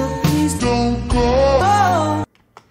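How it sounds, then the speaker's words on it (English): A vaporwave music sample, slowed down and pitched down, plays as a thick, murky stretch of sustained low harmonic tones for about two seconds, then cuts off abruptly into near silence. "slow it down and pitch it down,"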